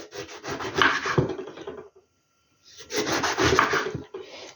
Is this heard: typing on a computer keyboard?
no